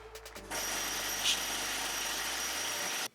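A cheap power hammer for shaping sheet metal, used on car body panels, starts abruptly after a few brief taps and runs as a loud, steady mechanical buzz before cutting off sharply near the end.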